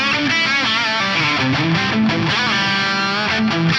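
An electric guitar line played through an Axe-Fx delay block with diffusion raised to 50% blurs into a lush, reverb-like wash, sustained notes and slides smearing together continuously with a chorused stereo shimmer.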